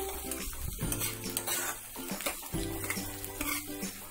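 Cut green chillies frying in hot oil for a lemon pickle, a busy close sizzle punctuated by clattering spoon-against-pan stirs, quiet overall.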